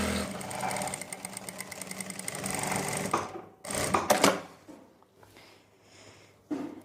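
A sewing machine stitches both side seams of a fabric piece for fitting elastic, a loud steady run of rapid needle strokes for about three seconds, followed by a few short bursts and handling noises.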